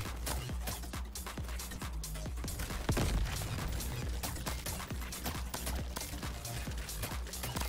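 Dense enemy gunfire rattles through a Crab Champions battle, with rapid, continuous volleys of shots near and loud and a heavier burst midway.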